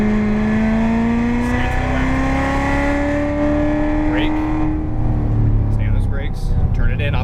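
A Corvette Z06 accelerates on the Las Vegas Motor Speedway track, its engine note rising steadily under throttle and then shifting, with an instructor talking over the loud interior roar.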